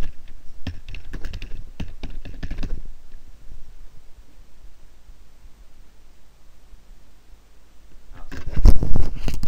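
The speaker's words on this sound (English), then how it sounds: "So I'll just type that out." Keys on a computer keyboard clatter in quick, uneven bursts up close, then pause to a quiet hiss before a louder final flurry of typing.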